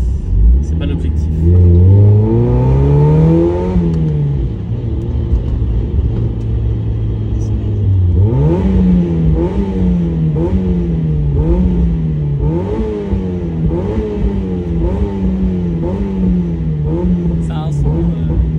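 Mazda MX-5 NA four-cylinder engine revs up hard, drops back to idle, then blips through a series of rising and falling rev bursts, loud and close, with a voice talking underneath.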